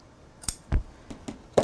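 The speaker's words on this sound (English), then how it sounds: "now we'll cut this off" Scissors snipping paper craft material for a paper bag album, a few separate crisp cuts spaced irregularly, close and fairly clear against a quiet background.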